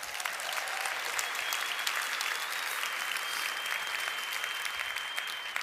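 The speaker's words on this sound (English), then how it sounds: "Give them a round of applause" A crowd at a recruiting event gives a sustained round of applause, a dense, even wash of clapping that holds steady throughout.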